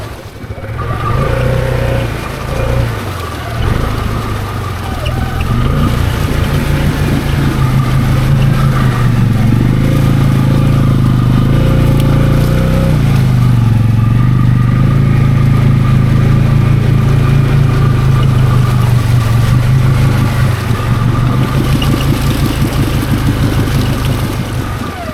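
A Can-Am Outlander XMR700 ATV engine labors steadily through thick swamp weeds and water, a loud, sustained drone that rises and strains under load for the whole stretch without letup.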